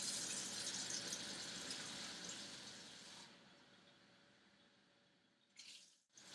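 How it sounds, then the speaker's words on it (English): Water poured into a rice cooker holding four cups of rice, a steady broadband gush running for about three seconds, then easing into a quieter trickle before a brief final splash near the end; no talking. "Now we're going to add the water to the rice cooker."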